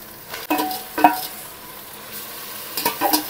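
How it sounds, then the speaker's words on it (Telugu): Marinated chicken goes into frying onions for biryani and is stirred, with a steady sizzle and sharp scrapes and clatters of a spoon against the pot in a few close bursts. "ఇప్పుడు ఆల్రెడీ మ్యారినేట్ చేసుకున్న చికెన్ని ఇందులో వేసుకుంటాము."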